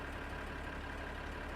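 Tractor engine idling in Farming Simulator, a steady, low, even rumble held without change and heard alone.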